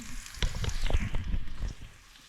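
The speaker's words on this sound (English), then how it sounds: "So I'm frying the onions." Onions fry in a pan for curried beans with corned beef hash, a close, uneven sizzle and crackle with a few stirring scrapes, fading toward the end.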